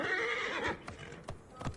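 A horse in Assassin's Creed Origins lets out a loud, close whinny, then a few hoof clops follow at uneven gaps as the call fades out.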